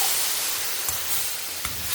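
Water is poured into a pan of frying onions, giving a steady broadband hiss and sizzle with a couple of faint clicks, close and fairly quiet.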